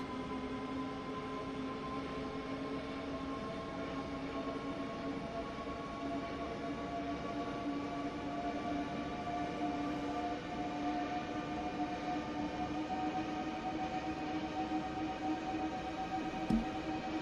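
Wheel flange squeal from a train in a railway video game: sustained, steady high-pitched tonal screeching over a rolling rail rumble, continuous throughout with no talk.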